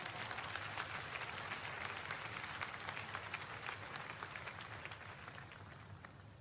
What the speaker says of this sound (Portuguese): pode glorificar ao Senhor com palmas